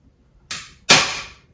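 Two sharp mechanical snaps in quick succession, the second louder, a staple gun firing staples over a wire on a garage ceiling, with quiet before and after.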